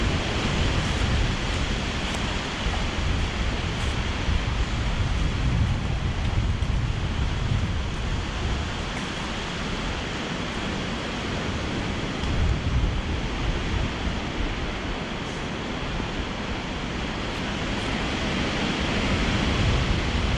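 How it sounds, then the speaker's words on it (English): Strong wind roars steadily through Ballykelly Forest in County Londonderry on a January day, a loud, unbroken broadband rush buffeting the microphone for the whole stretch with no break or lull. "Wind's really loud here now."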